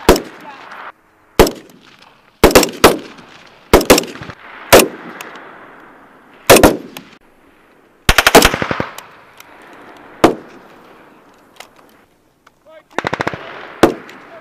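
Rapid bursts of rifle and machine gun fire crack out during live-fire tactical training by officer cadets, loud and repeated in clusters, with shouting voices in between.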